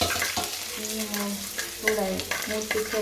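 Ginger sizzles in a little hot oil with mustard seeds, a steady close crackle broken by a few sharp clinks of stirring, with a faint tonal murmur like a background voice.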